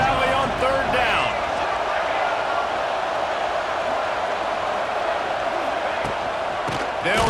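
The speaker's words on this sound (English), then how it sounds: "Here comes the noise from this big crowd in Happy Valley on 3rd down." A big stadium crowd in Happy Valley roars on third down at a college football game, a dense, sustained wall of cheering noise that holds throughout, with faint voices underneath.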